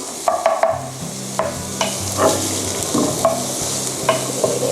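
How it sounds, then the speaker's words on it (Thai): Onion and garlic stir-fried in a pan for Korean topokki, a steady sizzle broken by repeated scraping and clacking of a spatula at close range. "ใส่หอมใหญ่แล้วนะคะ ก็เหมือนเดิมผัดให้หอม"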